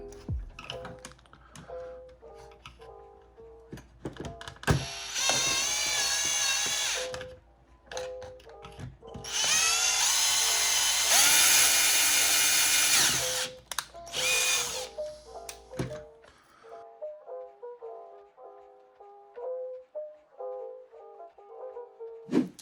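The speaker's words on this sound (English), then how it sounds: "And then move up to a bigger drill bit." Loud electric drill with a bigger bit runs in several bursts during a GPStar Supreme kit wand install, one long steady whine in the middle, separated by clicks and knocks, then quiet tapping afterward.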